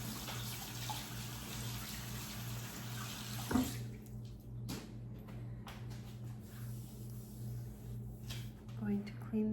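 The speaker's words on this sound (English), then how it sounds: "I'm going to wash my hands." Tap water runs into a kitchen sink while hands are washed during apple crumble pie baking, a steady splashing hiss that cuts off partway through, followed by faint clinks and a voice speaking in the background.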